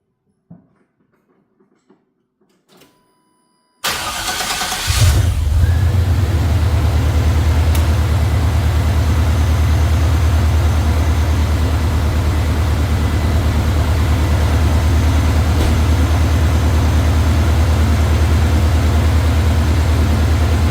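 A 1989 Chevrolet Silverado pickup cranks after a few quiet seconds of small handling noises, then settles into a steady, loud idle with its A/C compressor running, a constant low engine drone throughout.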